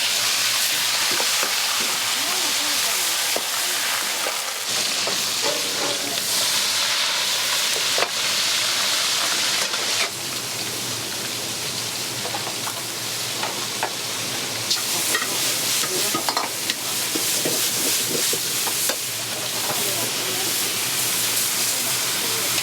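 Vegetables stir-fried in a wok at a busy Amagasaki town Chinese diner: steady loud sizzling and hiss with scraping, clattering stir strokes running throughout, no talk.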